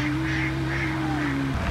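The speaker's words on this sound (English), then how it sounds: "Oh, look at these ducks over here." Ducks, two drakes and two hens, quack faintly outdoors over a steady low hum. The calls come in a few short bursts.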